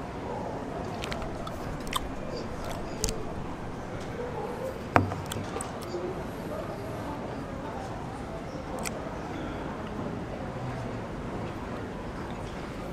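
A packaged in-flight snack of about 130 calories is crunched and chewed in an economy-class airline cabin, with soft irregular bites over a steady engine hum, close to the mic.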